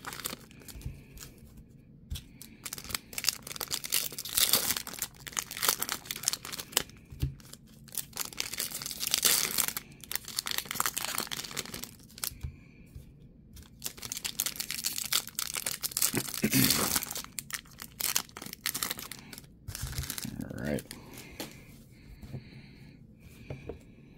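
2021 Prizm Draft blaster box card packs being ripped open quickly, with bursts of crinkling foil and tearing wrapper alternating with brief quiet gaps, close and fairly soft.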